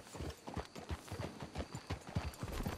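Horse hooves clip-clop steadily on the ground in Red Dead Redemption 2, a close, even walking rhythm that continues for the whole stretch without talk over it.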